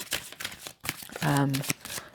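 Romance angel cards are shuffled by hand in a soft, brief riffling burst, close and quiet beneath a person talking.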